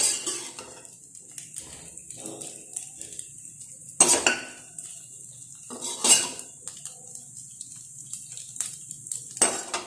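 Containers and dishes clatter and clink as a child's lunch tiffin is packed at home, with a few sharper knocks standing out among softer handling sounds and no talking.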